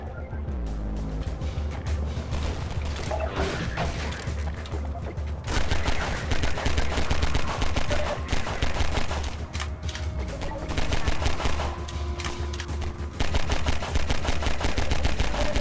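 Dense, continuous gunfire from an enemy in the video game Half-Life 2, rattling on in long bursts that grow louder partway through, over a busy backdrop of game sound and music.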